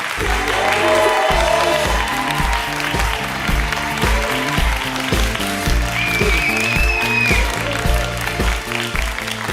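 A comedy-show audience applauds and cheers for a comedian as a steady, loud wash of clapping and crowd noise, with music thumping underneath and a few whoops rising above it.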